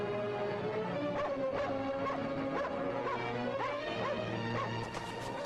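A dog barks and whimpers aboard a ship in a classic fantasy adventure film. Several sharp yelps and whines come in a loose run, fairly close, over a constant dense background wash.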